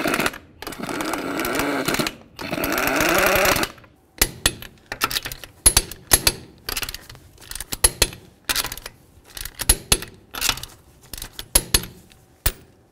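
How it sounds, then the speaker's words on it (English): Lug nuts being started and torqued onto a Mazda wheel: a sustained buzzy spin of an impact tool early on, then a long run of sharp metallic clicks and ratcheting snaps, close and irregular. "We'll start all of our lug nuts, and then we're going to torque them to 85 foot-pounds."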